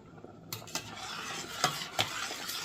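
A spoon stirs meat dumplings (pelmeni) in a pot of boiling water, giving a soft, steady bubbling bed with a few sharp clinks and scrapes against the pot, close and with no voices.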